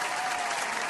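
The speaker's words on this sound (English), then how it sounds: "Round of applause to them." A brief round of crowd applause, an even, fairly faint patter of many hands with no voices over it.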